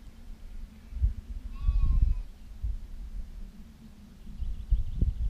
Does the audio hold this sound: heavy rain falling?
no